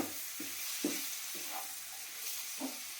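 Potatoes fry in a pan for a spicy vegetable Maggi, with a steady hiss of sizzling oil broken by about six rhythmic scraping stirs close by.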